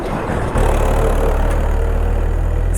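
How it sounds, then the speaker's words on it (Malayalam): Tractor engine rumbles loud and close with a steady low idling drone on a tea estate road in Idukki, holding constant with no talk over it. "അതുപോലെ തന്നെ ഒരു ട്രാക്ടർ വരുന്നുണ്ട്"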